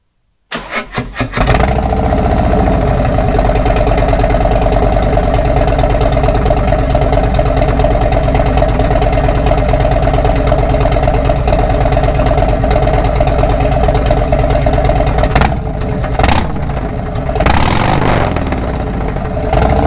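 Harley Davidson motorcycle fitted with Tab Performance headpipe and 50 Cal slip-on exhaust with Zombie baffles cranks and fires up, then settles into a loud, steady, loping idle close by with a couple of brief blips near the end.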